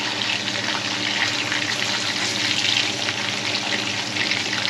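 Beef slices for Filipino bistek frying in hot oil, a loud, continuous close-up hiss and crackle that holds steady throughout with no talking.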